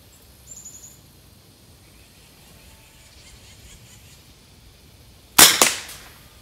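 A single loud, close shot from a Trapmaster muzzleloader fired with a patched .375 ball and no wad while plinking, with a sharp crack and a short ringing decay near the end, after quiet outdoor ambience.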